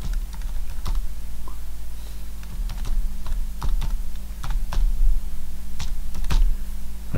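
A command being typed on a computer keyboard, giving a close run of uneven key clicks over a low steady hum, with no talk.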